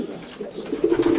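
Racing pigeons cooing in a breeding loft, a close, loud low rolling coo that swells toward the end of the short burst.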